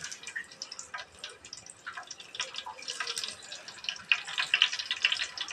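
Cumin seeds crackle in hot oil as a faint, irregular spatter of small pops and sputters, growing slightly busier toward the end.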